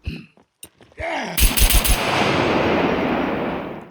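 Hip-fired guns in the survival shooter SCUM: a couple of faint thumps, then a loud rapid burst of gunfire followed by a long ringing, echoing tail.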